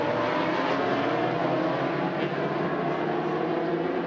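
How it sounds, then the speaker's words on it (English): Racing motorcycles at Macau Grand Prix qualifying on a street circuit, a steady, dense engine roar heard from a distance with no break, no talk over it. "Bikes on the track."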